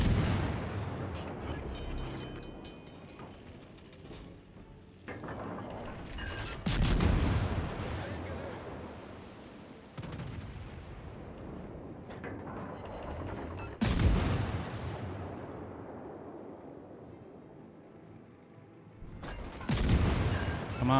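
Battleship guns firing high-explosive shells in the naval game World of Warships: Legends: several heavy, booming salvos roughly every few seconds, each with a long rumbling decay under a steady background drone.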